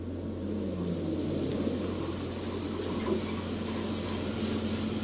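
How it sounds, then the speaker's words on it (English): A bus engine in a video game hums low and steady as the bus approaches and pulls over, with a faint brief brake hiss midway. "The sound of an engine brought me back to reality. A bus pulled over."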